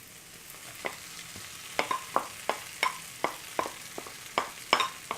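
Vegetables stir-fried in a pan, a quick run of sharp, regular scraping strokes about every third of a second, close and clear over a soft sizzle.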